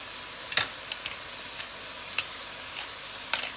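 Cabbage and mixed vegetables being stirred in a pan with black pepper: faint, scattered scrapes and ticks from the utensil over a quiet, steady sizzle.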